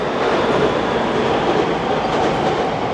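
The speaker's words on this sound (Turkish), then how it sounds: "Burada sağ üst tarafta gördüğünüz yer trenin geçtiği yol arkadaşlar. Duyuyor olmanız lazım şu an." A train rolls past on a nearby railway track in a steady, loud rumble with faint clickety-clack from the wheels, filling the whole moment without any voices.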